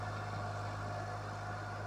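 A New Holland 3037 tractor, a 39 HP machine, idles steadily with a low, even engine hum and a droning tone, quiet and unbroken throughout.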